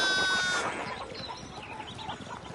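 Sheep bleat in the medieval video game Pentiment, a short wavering cry at the start fading into soft, scattered farmyard bleats and rustling.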